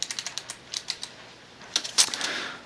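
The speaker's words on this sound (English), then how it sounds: "let's start typing stuff in our program." Computer keyboard typing while entering a program: quick bright clicks in an irregular run, then a pause and a denser cluster of keystrokes, close and crisp with no talking.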